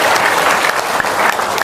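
An audience claps steadily for a moment, a dense, even burst of many hands that is fairly loud and close, with no talk over it.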